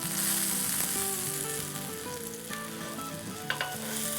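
Mutton seekh kebabs sizzle on a hot tawa over a stove, a steady close frying hiss with a few faint utensil clinks and taps.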